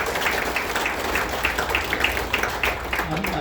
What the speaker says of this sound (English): If we could get a round of applause for somebody.